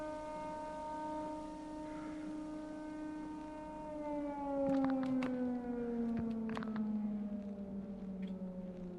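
A wailing civil-defense-style siren drones and slowly bends in pitch inside a horror video game, rising louder midway with a few sharp clicks over it, no talking.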